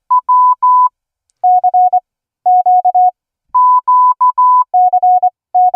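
Morse code CW sidetone from a kit keyed over wifi: clean, loud beeps in quick groups that alternate between two pitches, with short gaps between groups and no voices.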